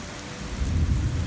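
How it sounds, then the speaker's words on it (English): Thunder from a lightning strike over a cul-de-sac during rain, a low steady rumble beneath continuous rain noise, with no voices. "lightning strikes in the cul-de-sac"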